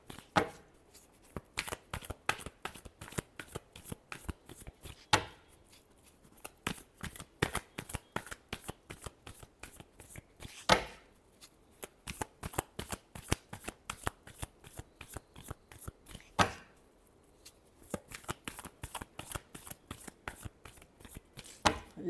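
Tarot cards being shuffled by hand, a rapid run of crisp riffling slaps and flutters repeated in bursts, close and clear, with no talk.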